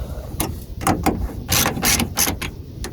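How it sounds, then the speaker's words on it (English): Nuts being tightened down in turn on the tow mirror studs of a Dodge Ram 2500, a run of close, loud ratcheting clicks in several bursts with short pauses between. "Now I'm just going to go through, tighten them all down."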